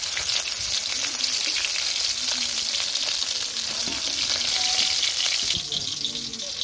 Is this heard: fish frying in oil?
yes